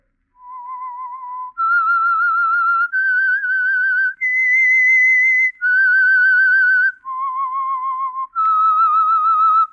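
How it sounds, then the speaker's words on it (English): Solo whistled theme of The Whistler radio drama, a clear, loud melody of about eight sustained notes with small pitch wavers, rising and falling across the phrase with short breaths between notes and no talking. "That whistle is your signal for the Signal Oil Program"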